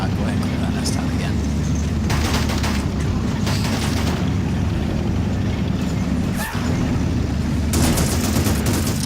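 Rapid gunfire, machine-gun bursts and booming explosions from the World War II strategy game Men of War Assault Squad 2 run dense and continuous, with sharp louder blasts punctuating the barrage.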